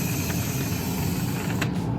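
Daggerboards being raised on a catamaran during a passage, a continuous close mechanical whir and rattle with a ratchet-like texture, steady throughout.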